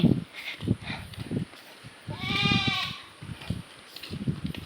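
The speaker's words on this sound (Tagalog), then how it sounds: "Ang ingay pala ng kambing parang kuan, bata." A goat lets out one loud, wavering bleat in the middle, with soft rustling and indistinct background noise before and after.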